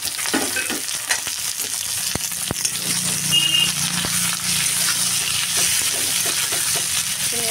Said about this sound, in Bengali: পেঁয়াজগুলো একটু লাল লাল ভাজা হলে তারপরে দেখো বেগুন আলু দিয়ে দিলাম